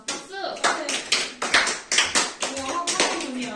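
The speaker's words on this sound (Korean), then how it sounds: "우리를 위해 박수!" Applause from a class of students, a short burst of hand clapping with sharp irregular claps close by, mixed with a few voices talking over it.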